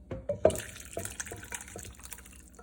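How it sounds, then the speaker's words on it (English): A hearty stew soup poured into a bowl, giving soft wet glugs and splats with a few clinks, close and quiet over about two seconds. "And pour it in this bowl."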